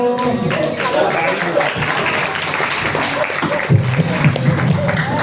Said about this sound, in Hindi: ऐसे नहीं, जरा जोर से ताली बजा के।